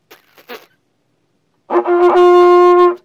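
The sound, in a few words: tense trumpet lip buzzing with too much pressure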